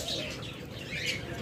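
A pair of red-eyed Fischer's lovebirds giving soft, close chirps and calls over a constant murmur of other birds.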